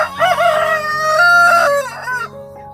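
A Brahma rooster on a small farm crows loudly and close, one long cock-a-doodle-doo with a wavering, strained tone that trails off at the end.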